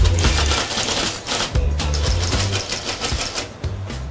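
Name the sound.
typing on a vintage 1970s typewriter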